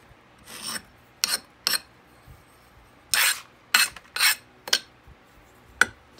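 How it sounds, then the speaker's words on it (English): Rasping scrapes drag excess casting sand off a sand-casting flask, a series of short, close, gritty strokes of uneven length with brief pauses between them. "Then you're going to want to scrape it off."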